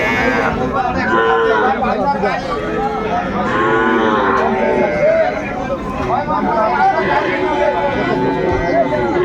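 Dairy cows low again and again at Aftabganj cattle market in Dinajpur, several long, wavering moos overlapping amid constant chatter from the surrounding crowd of buyers and sellers.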